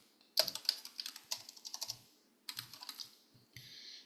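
Computer keyboard keys tapped in quick irregular clusters while building topics in Mindomo mind-mapping software, with a couple of firmer strokes for Enter, close and clear with no talking.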